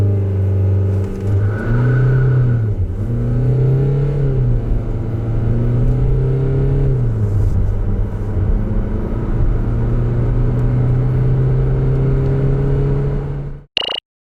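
A 2020 Chevrolet Equinox with a 1.6 diesel engine and two-wheel drive accelerates hard, its engine droning and rising in pitch through successive gear changes under steady cabin rumble.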